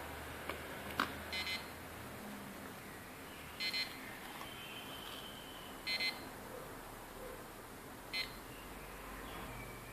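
A Cornet ED78s radiation meter held near a phone during a call, giving four short bursts of rapid beeping spaced about two seconds apart over a faint hiss.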